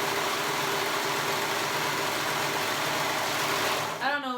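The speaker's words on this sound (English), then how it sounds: "So we're sewing the sides, right sides together" A sewing machine stitching the side seams of a jumper, right sides together, runs as a steady, continuous mechanical whirr at close range, then stops near the end as a voice briefly begins.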